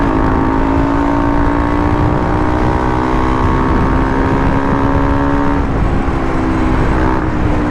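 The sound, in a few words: KTM Duke 200 motorcycle engine revving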